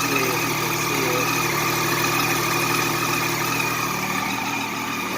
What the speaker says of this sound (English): Oh, now I gotta figure out this exhaust leak there.